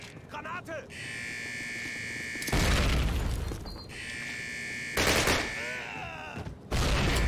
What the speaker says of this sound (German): Aber warte mal, wir können auch mal Granaten benutzen. Wozu haben wir denn die Eier? Granate!